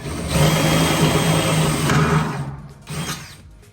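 A power drill whirs loudly for a couple of seconds, drilling up through the bottom of a pontoon boat deck, then cuts out and briefly revs again, close and grinding.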